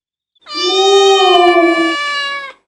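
A single long, drawn-out cat meow, loud and close, rising slightly then trailing off over about two seconds.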